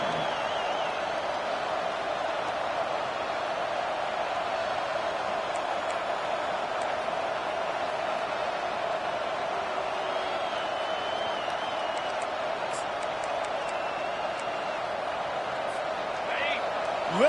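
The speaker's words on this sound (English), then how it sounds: "Listen to this crowd just shaking the girders of this place trying to help their defense" Steady roar of a stadium crowd in the College Football 25 video game, a dense continuous wash of cheering holding level throughout without letup.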